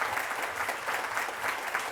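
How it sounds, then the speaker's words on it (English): An audience at a luxury business symposium applauds, with dense, steady clapping from many hands that holds at a constant level for the whole moment, fairly quiet and without voices. "Let's just give them a big round of applause right now."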